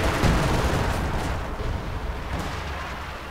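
Dense, continuous barrage of artillery fire and explosions in the Company of Heroes 2 video game, loud booms overlapping with rapid gunfire throughout, with no break in the rumble.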